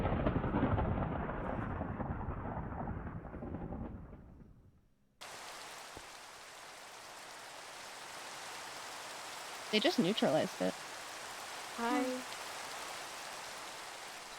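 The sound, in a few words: storm sound effect, thunder and rain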